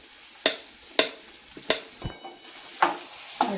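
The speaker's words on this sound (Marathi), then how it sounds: "आपण कांदा टाकून परतून घ्यायचा" Chopped onion with curry leaves stirred in a hot pan, a spatula scraping in sharp strokes about every half second over a faint background sizzle.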